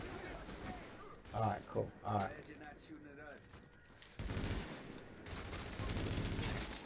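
Gunfire in The Division video game, with scattered shots and a few louder bursts followed by denser sustained shooting, under someone talking.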